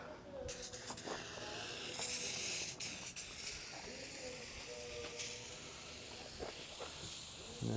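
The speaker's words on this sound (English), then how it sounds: "lube it down with some silicone spray" Silicone spray hisses in short bursts onto a tach cable, quiet aerosol spurts with mechanical clicks and handling noises between them.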